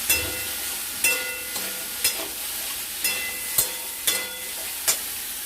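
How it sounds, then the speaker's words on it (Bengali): Small fish with slit green chillies fry in a pan, a continuous soft sizzle punctuated by about seven sharp spatula scrapes and knocks at irregular intervals, close and without talking. "এর সাথে আমরা দিয়ে দেব কয়েকটা কাঁচা চেরা কাঁচা লঙ্কা দিয়ে নাড়াচাড়া করবো দু তিন মিনিট"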